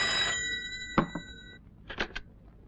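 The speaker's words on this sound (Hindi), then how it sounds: "विजय का फोन है, कह दो कि मैं नहीं हूँ।" A telephone bell rings in a loud burst at the start, then falls silent, followed by a few brief knocks and clicks nearby.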